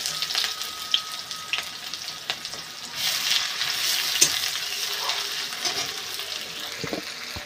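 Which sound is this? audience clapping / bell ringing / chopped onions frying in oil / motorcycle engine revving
chopped onions frying in oil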